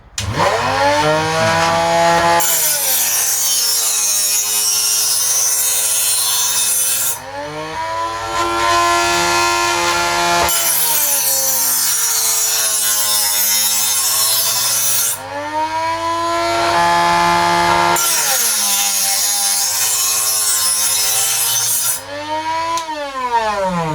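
A Von Chef electric knife sharpener runs continuously with a loud whining motor drone, broken by three long bursts of harsh grinding hiss as a blade is drawn through the slots, each pass lasting several seconds.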